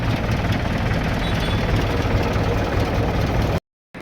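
A tractor engine idles with a loud, steady low rumble and rhythmic chugging, close by and unbroken, then cuts briefly near the end.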